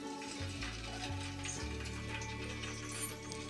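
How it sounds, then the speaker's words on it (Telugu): Green chillies fry in hot oil for a fish curry, making a quiet, steady sizzle with a few soft low knocks from the pan. "మనం ముందుగా ఆయిల్లో పచ్చిమిర్చిని వేసేసుకుందాం ఇట్లాగా"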